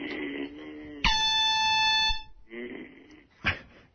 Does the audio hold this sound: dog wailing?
no